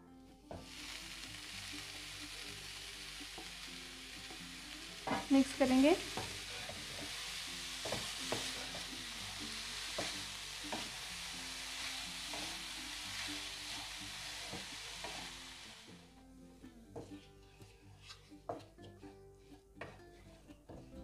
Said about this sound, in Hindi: अच्छे से मिक्स करके लेंगे आप हम इसमें डालेंगे ग्रेट की हुआ पनीर